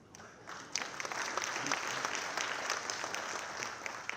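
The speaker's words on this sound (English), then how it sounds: "I believe, Josepha, you will clap for me on that" An audience at a Kenyan political rally applauds, a dense, fairly distant wash of clapping that starts abruptly and holds steady for several seconds.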